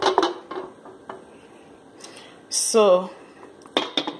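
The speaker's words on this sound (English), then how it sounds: "You place the cover and rest." Metal clatter of a pot lid set onto a cooking pot holding a smaller heat-resistant bowl for making rose water, a few close knocks and scrapes with a brief ringing clink, while a person speaks.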